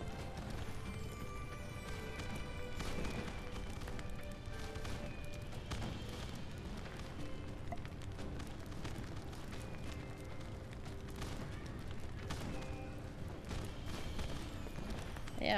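Fireworks in the video game My Time at Sandrock, popping and thudding in a steady, irregular stream of muffled bursts, some nearer and others farther off, layered over a continuous low rumble.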